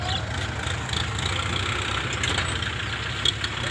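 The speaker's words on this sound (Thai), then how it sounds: "เอารถไถมาดัน" A farm tractor's engine idles steadily while pushing a heavy D2 bulldozer stuck in soft soil beside freshly poured concrete, a continuous low mechanical rumble with no talk.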